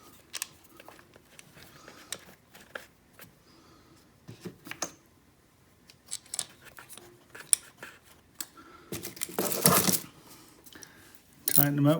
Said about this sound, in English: Tighten them up with the 10mm ratchet.